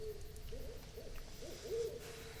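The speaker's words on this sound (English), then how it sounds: "Is that an owl?" An owl hooting at night in a forest, several soft wavering hoots in a row rising over a constant background hiss, faint and distant.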